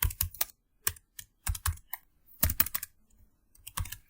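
Bursts of keystrokes on a computer keyboard, clustered in quick runs with short pauses between them, close and clear with no talking.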